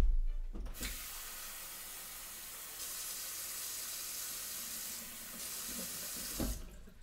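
Water runs steadily from a kitchen tap while measuring a cup for zebra cake batter, a loud continuous rushing stream that starts abruptly, shifts slightly in tone midway and cuts off near the end.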